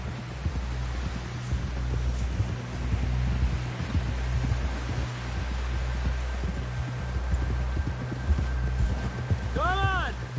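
Horse hooves clip-clop in a steady rhythm through Red Dead Redemption 2, mixed with wind and rustling in the game world, while a voice talks over the riding near the end.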